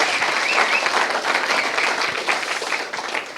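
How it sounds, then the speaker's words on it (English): An office audience claps in steady, dense applause for a food operations team at a company talk event, a continuous wash of hands at even loudness that tapers slightly near the end. "Can we give a quick round of applause for the food ops team?"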